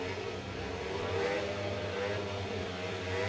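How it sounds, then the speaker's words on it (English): Several speedway motorcycles rev together at the start line of a heat in a Birmingham Brummies versus Lakeside Hammers meeting, giving a loud, sustained engine roar with crowd noise underneath. "Lights pick up the revs now."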